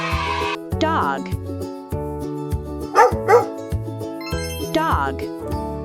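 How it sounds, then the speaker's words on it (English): A dog gives a few short barks at intervals over cheerful children's music. "Dog."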